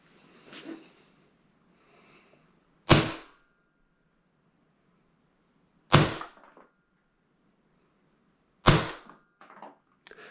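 Three sharp airsoft shots fired over a chronograph with 0.30 g BBs, each a loud close crack spaced about three seconds apart, with faint handling noise between them in otherwise quiet surroundings.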